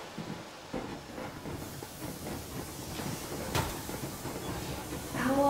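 Inside the video game Metro Exodus, a steam locomotive runs with a steady rumbling, hissing chug and faint rhythmic clatter on the rails, at moderate loudness with brief voices over it.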